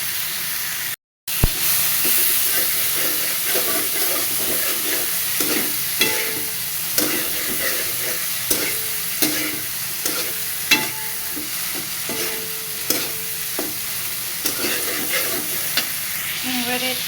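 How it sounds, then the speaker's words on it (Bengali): Potatoes stir-fried in a pan, a continuous loud hissing sizzle close by, punctuated by regular scraping stirs every second or so, with no talking. "আলু দিয়ে একটু নাড়াচাড়া করে সামান্য"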